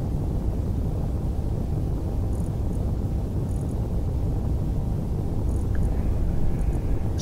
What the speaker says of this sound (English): I can just tap the main engines on and we'll get a big lifting whoosh